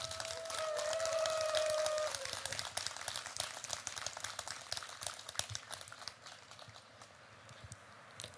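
Applause from a crowd at a Buddhist temple anniversary ceremony at Osongsa in Ulsan, honouring the master monk. A dense, continuous patter of clapping runs throughout at moderate level, with a sustained tone over the first two seconds.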